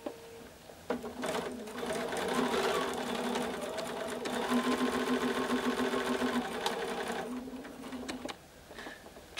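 A sewing machine runs steadily, stitching fabric with a quarter-inch foot and neutral gray thread while piecing a quilt block. The close, loud mechanical whir lasts several seconds, then slows and stops.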